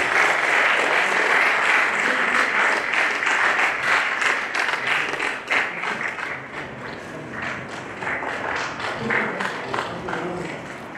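An audience at a university MOU signing ceremony applauding a dean invited onto the dais, a sustained, full round of many people clapping that stays steady before slowly thinning.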